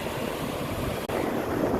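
Sea waves washing onto the sand at Nam Rin Beach in Ban Chang, Rayong, a steady broadband wash with light wind noise, continuous and fairly close, with no talk.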